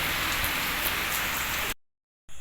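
Steady, close rain patters hard on surfaces during a long motorbike journey from Asansol to Sultanganj, then cuts off abruptly into silence before briefly resuming.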